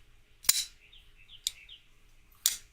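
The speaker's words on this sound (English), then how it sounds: "Those birds are outside my house." Faint birds chirp and twitter in the distance outside a house between three loud, sharp clicks close by.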